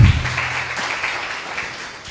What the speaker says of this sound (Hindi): यहाँ ताली नहीं चाहिए था